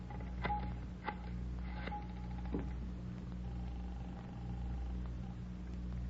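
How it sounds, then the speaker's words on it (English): In a radio crime drama, a telephone is dialed with several short clicking pulses and tones spread over a few seconds above a steady low hum, with no talking. "Could I use your phone, Miss Waters?"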